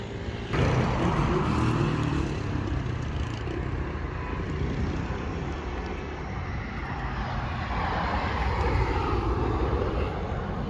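A drone flying for aerial shots over a new construction site on Hope Road in Kingston, Jamaica, gives a constant loud broadband motor roar that holds steady throughout with no talk.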